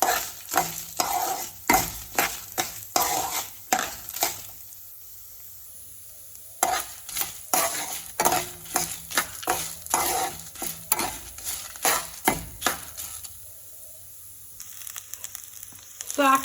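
Red chilies and other chutney ingredients for idli and dosa fry in a pan, with sizzling bursts and rhythmic scraping stirs separated by a couple of quieter pauses.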